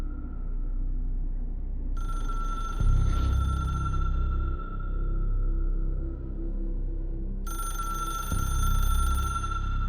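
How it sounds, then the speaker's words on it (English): An electronic telephone bell in a video game (Control Ultimate Edition) rings in two bursts over a low ambient rumble, loud and close, with a pause between rings. "There's a loud ass phone"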